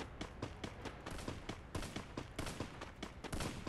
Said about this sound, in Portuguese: Tá atirando aqui.